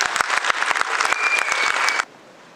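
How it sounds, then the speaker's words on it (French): Wedding guests at an official marriage ceremony in the Palais des Congrès, Brazzaville, applaud the bride with brisk, close claps that stop abruptly, leaving faint room tone. "Applaudissez la championne."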